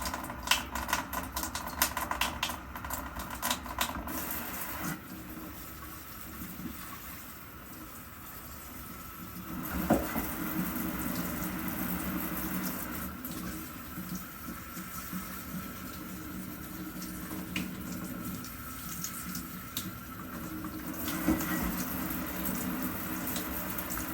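Tap water poured and rinsing through the soil of a freshly up-potted houseplant, a continuous close splashing trickle with gurgling drainage that briefly eases around the middle before running on, no talking.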